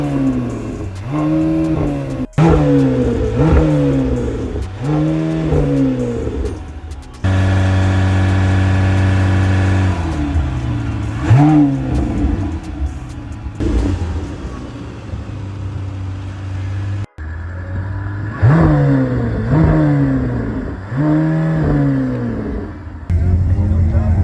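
A Lamborghini Temerario engine revs hard in repeated rising and falling bursts, with a sustained high-rpm hold in the middle, loud and close, while a voice talks over it.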